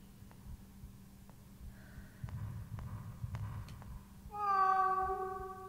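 In the Wii horror game Calling, a cat lets out a single long, loud meow near the end, preceded by faint clicks and a low rumbling hum, with no talk.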